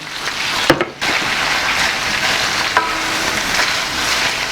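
Onions hit beef tail fat in a hot cast iron pan and sizzle loudly and steadily, with a brief clatter of stirring, while beef heart cooks for kavurma.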